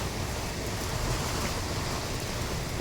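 Heavy rain pours down in a steady, even hiss that fills the whole few seconds, soft but continuous, with no voices.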